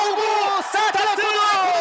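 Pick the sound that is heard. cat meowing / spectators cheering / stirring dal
spectators cheering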